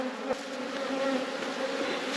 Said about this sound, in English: The bees here are just repairing where I tasted it.